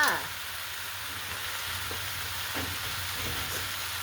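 Mackerel stir-fried with chili paste sizzles steadily in a hot pan, with a constant frying hiss and a few faint stirring clinks, close and fairly quiet.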